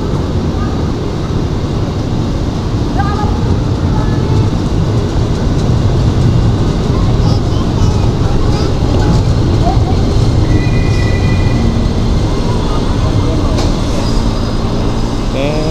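KRL commuter electric train arriving at a busy Jakarta station platform, a loud continuous rumble and roar with faint squeals and chimes mixed in, under a crowd and announcements.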